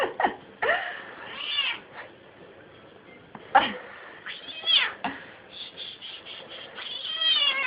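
A cat being put into pants lets out repeated close, complaining meows, some short and some drawn out, with scuffling and handling noises in between.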